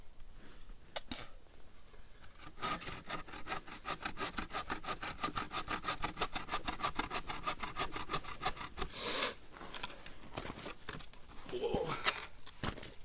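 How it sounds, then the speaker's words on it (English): Hand saw cutting wood at a bushcraft camp, a run of quick rhythmic back-and-forth rasping strokes close by, preceded and followed by scattered handling scrapes and knocks. "Because it'll like bounce out when you're sawing."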